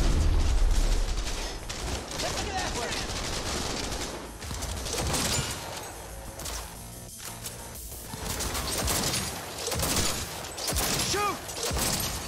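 Rapid bursts of gunfire in a shooter video game, sustained crackling volleys with a heavy blast at the start, mixed with game voice callouts and effects throughout.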